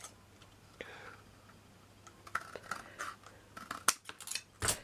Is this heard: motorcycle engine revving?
no